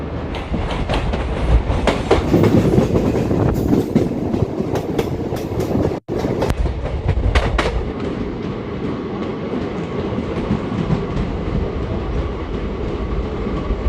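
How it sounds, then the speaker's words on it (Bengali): A passenger train pulls out from platform 2 of Kolkata station and rolls steadily along the rails, with a continuous loud rumble and a rhythmic clickety-clack of wheels over the joints that holds throughout, interrupted only by one brief dropout. "কলকাতা স্টেশনের 2 নম্বর প্ল্যাটফর্ম থেকে আমাদের ট্রেন ছেড়ে দিল"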